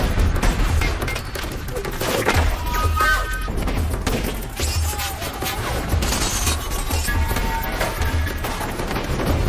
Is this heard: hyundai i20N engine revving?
no